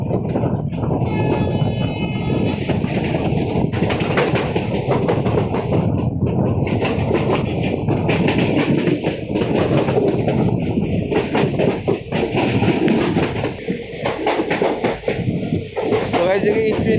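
Mussoorie Express passenger train running on the tracks between Haridwar and Delhi, heard from inside as a steady rumbling roar with clattering wheel noise, continuous and fairly loud throughout.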